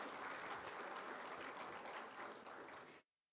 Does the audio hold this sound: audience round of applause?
yes